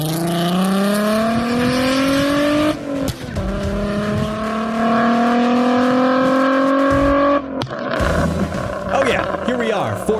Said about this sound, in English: Hear those car sounds, by the way.